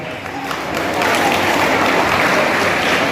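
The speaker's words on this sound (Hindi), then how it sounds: "जोरदार तालियां हो जाए कृष्णा के लिए" Crowd applauds the winner of a school cluster-level chess competition, a loud, dense wash of clapping that swells after the first second and holds steady.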